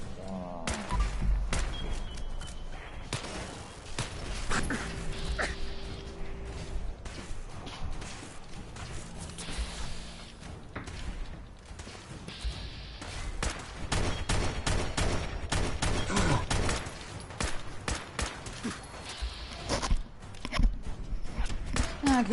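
Gunfire in a Fallout 4 battle against an Assaultron: repeated loud shots and bursts over a busy game soundscape, with occasional faint voices.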